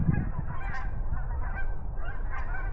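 Geese honking repeatedly as they fly overhead at a moderate distance, their calls overlapping over a steady low rumble of outdoor noise.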